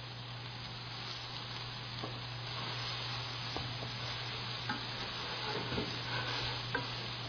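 Grated carrots cooking in a pan for carrot halwa, with a soft steady sizzle, occasional light stirring scrapes, and a low constant hum underneath.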